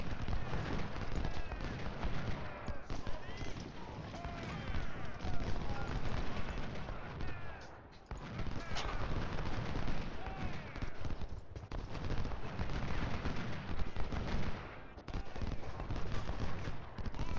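Gunfire in the Civil War video game Ultimate General: Civil War, with continuous crackling volleys of musket fire and scattered pops, dense and sustained across the whole stretch, some voices mixed under the shooting.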